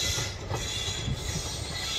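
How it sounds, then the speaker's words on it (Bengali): A local Katwa–Azimganj–Nimtita express train enters Azimganj Junction: loud, continuous close rumble of wheels and carriages with rail clatter and a hint of wheel squeal, no voices. "এটি কাটুয়া জংশন থেকে ছেড়ে এসে আজিমগঞ্জ জংশনে প্রবেশ করছে"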